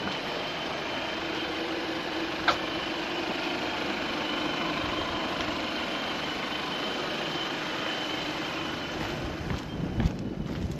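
A 2016-2019 second-generation Chevy Cruze engine idles with a steady, even drone and a few faint clicks and knocks near the end, with no talking.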